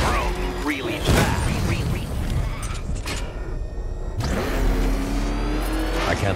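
The Batmobile's engine in Batman: Arkham Knight revving and roaring during a Riddler trial, loud and continuous with surges in pitch, overlaid by game voices talking.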